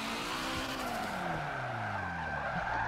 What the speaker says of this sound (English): I shouldn't spin the tires as much